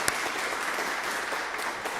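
A crowd at a church's annual parish meeting applauds its retiring vestry members: steady, dense clapping that fills the room without a break.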